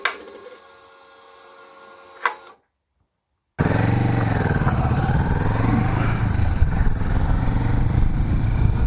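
A Kawasaki Vulcan S motorcycle with a newly fitted windshield being ridden: a short burst of engine noise cuts to silence, then a loud, steady engine drone and wind rush carry on without a break.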